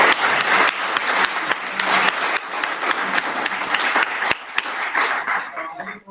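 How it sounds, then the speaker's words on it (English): A crowd applauds at a Yukon Public Schools gathering, producing dense, sustained clapping that stays loud and steady for several seconds before thinning out at the end. "give a big round of applause"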